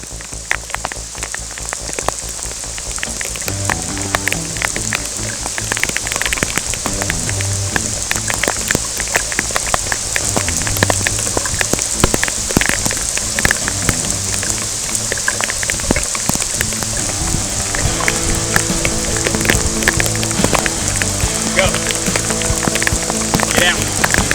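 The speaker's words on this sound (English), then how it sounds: "the rain kicked in and it only started getting harder" Heavy rain pours down during an inshore fishing trip in Charleston, South Carolina, a dense, continuous hiss of drops drumming on surfaces, loud and close throughout, with faint background sounds underneath.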